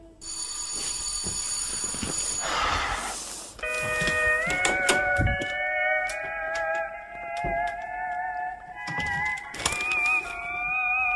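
A cat meows several times in a row at close range: long, wavering cries with short pauses between them, with brief knocks and clatter around the calls and no talking.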